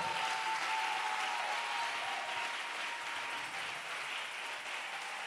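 A church congregation bursts into steady, sustained applause acclaiming the Lord, a dense wash of many hands clapping together with faint voices mixed in, holding at an even level throughout.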